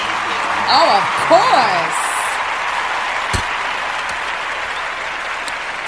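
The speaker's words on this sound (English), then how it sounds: "Let's give this sister a round of applause." Audience applause at an evening event welcoming a guest, a steady wash of clapping running the whole clip while a voice speaks briefly over it near the start.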